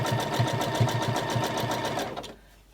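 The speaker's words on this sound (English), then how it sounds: "I'm just sewing a little bit, a generous 1/4 inch seam rather than a scant" A sewing machine stitching a generous quarter-inch seam: a close, steady rapid mechanical whirring with a regular pulsing rhythm for about two seconds before it stops abruptly.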